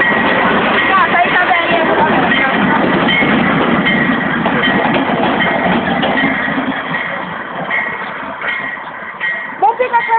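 An MRS freight train rolls past near km 64, a loud continuous rumble with rhythmic wheel clatter and screech that fades a little toward the end. People talk over it.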